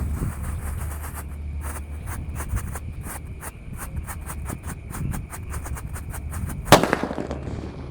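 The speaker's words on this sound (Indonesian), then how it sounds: "Selanjutnya yang kita nyalakan di sini ada disco laplaptor happy flower." A disco happy flower firework burns with a steady crackling hiss and a string of sharp pops, then a louder burst near the end, set off outdoors at night among other fireworks.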